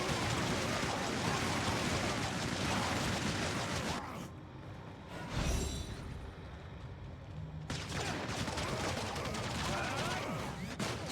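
Sustained rapid gunfire in Tower of Fantasy, a dense crackling stream of shots that breaks off briefly near the middle before resuming, with a player talking.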